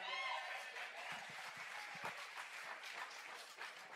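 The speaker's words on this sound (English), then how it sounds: "Y'all can clap for that." Applause from an audience at a South Carolina Democratic Party state convention, a steady wash of many hands clapping at moderate distance throughout, with some crowd noise mixed in.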